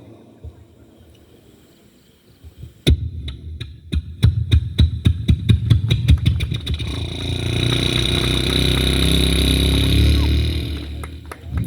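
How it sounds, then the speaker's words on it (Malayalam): An old diesel engine is started from silence with a sharp jolt, then slow, evenly spaced chugs quicken into a steady, loud, close running rumble. "നമ്മുടെ പഴയ ഡീസൽ എൻജിൻ സ്റ്റാർട്ട് ചെയ്യുന്നത് എങ്ങനെയാണെന്ന് നോക്കാം"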